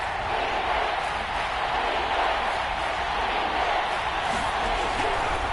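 A dense roar from a stadium crowd in an American football video game builds ahead of a big third down, a steady loud wash of cheering with no pauses.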